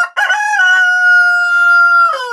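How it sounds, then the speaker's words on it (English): A rooster lets out a single loud, close crow, with a short rising start and then a long drawn-out call held for almost two seconds before it breaks off. "It says cock-a-doodle-doo"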